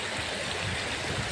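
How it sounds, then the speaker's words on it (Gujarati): Floodwater rushes and splashes across a road overflowing after heavy rain, a dense, continuous wash of water close by. "જો મિત્રો આવી રીતે પાણી ઉડે છે"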